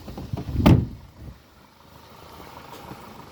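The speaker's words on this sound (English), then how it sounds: "I'll also pull the bonnet catch." Pulling the bonnet release catch inside a 2014 Audi 1.8 TFSI S-line gives a single close, dull clunk, followed by quiet cabin background.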